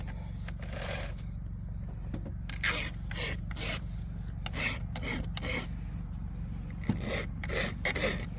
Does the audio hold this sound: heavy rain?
no